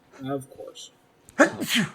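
A single sharp sneeze bursts out close and loud after a brief spoken remark, followed by a second breathy burst as it trails off.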